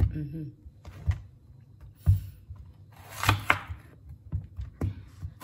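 Big apples being cut into cubes with a bread knife, several uneven knife knocks on a board, with someone talking close by between the cuts.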